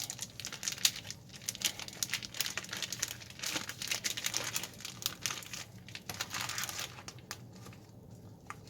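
A pound of Costco bacon in its plastic package is handled up close, giving steady crinkling and crumpling with brief tearing-like rustles throughout, fading slightly near the end; no one speaks.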